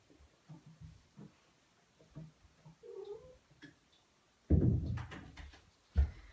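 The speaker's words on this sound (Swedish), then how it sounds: "det är min katt som krafsar på dörren." A cat meows and yowls, then a sudden rough scraping and thumping as it scratches at a door follows, close and louder than the quiet calls before it.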